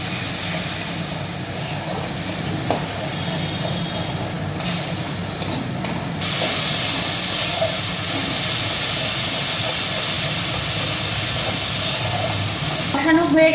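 Spice masala sizzling steadily in a pan after water and turmeric are added while it is sautéed, a continuous close hiss with brief stirring clatter.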